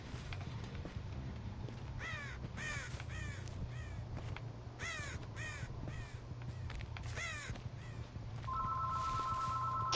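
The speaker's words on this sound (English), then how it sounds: "Oh, for God's sake, now the phone." A telephone rings in the Dead by Daylight horror game. A short electronic ring comes in near the end, after a stretch of repeated crow caws over a low ambient drone.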